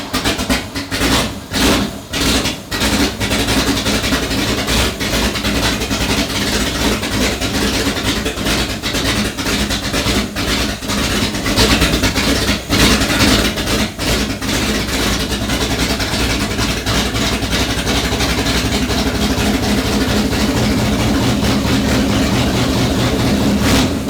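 A rebuilt Ford Bronco starting up for the first time runs on straight pipes with no muffler, giving a loud, raw, continuous exhaust rumble that holds steady throughout.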